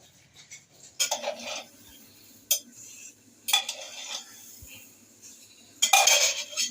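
Metal utensils clink and scrape against pots in a home kitchen while a brinjal curry cooks, with a few sharp separate knocks spread over a quiet background hum.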